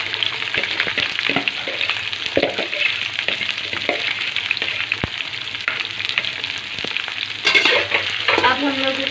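Okra (bhindi) sizzles loudly in hot cooking oil, a dense steady frying hiss with repeated spatula scrapes and clicks near the end.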